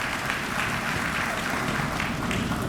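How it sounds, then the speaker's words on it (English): An audience at a winter commencement ceremony applauds legislators, a steady wash of many hands clapping, loud and continuous across the whole stretch with no talk. "You may applaud our"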